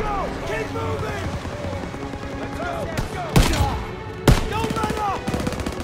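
Machine gun fire rattles in Call of Duty WWII combat, with rapid bursts and a couple of sharp louder gunshots over a busy battle din, under shouted soldier voices.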